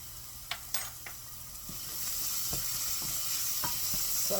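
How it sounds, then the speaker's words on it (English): Crushed basil and thyme sauté in a pot for tomato soup, a few light taps of a spoon at first, then a quiet sizzle that builds into a steady hiss with occasional stirring knocks. "Saute this again for about 30 seconds."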